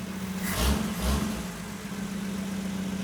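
A 1949 Metro Van's freshened-up engine idles nearby with a steady low hum, two brief revs swelling then settling back to an even idle.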